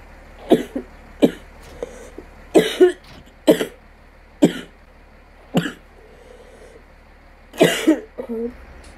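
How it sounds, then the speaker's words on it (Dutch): A person coughs repeatedly in a quiet room, with about ten sharp, close coughing bursts at irregular intervals and a low steady hum underneath. "Hoesten."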